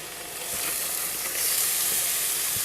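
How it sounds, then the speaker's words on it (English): Cauliflower rice is tipped into a pan of sizzling onions for cilantro lime cauliflower rice, the steady frying hiss swelling louder as it goes in, with light stirring and no talk. "We're going to add in our cauliflower now."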